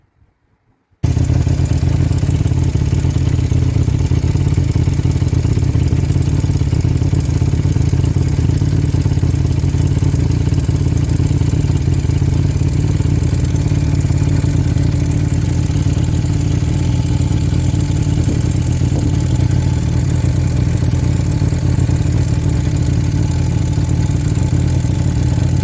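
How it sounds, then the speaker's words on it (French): A motorcycle is started for carburettor synchronisation tuning and settles into a steady, loud idle with a low rumbling drone and slight mechanical clatter, running alone without speech. "Ensuite on va démarrer la moto."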